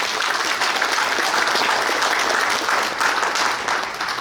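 Members at a regional metalworkers' union delegates' meeting give loud, sustained applause, a thick even roar of many hands clapping close by without pause.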